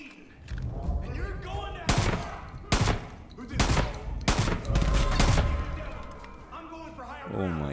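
A silenced shotgun with a scope firing in Far Cry 5, several muffled, punchy shots spaced about a second apart over game background noise, with a voice talking between some of the shots.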